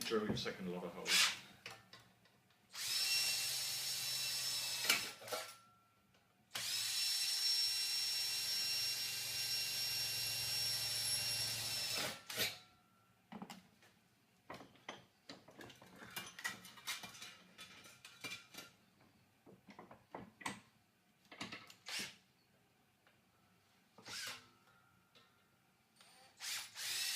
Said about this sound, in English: And drill your second lot of holes.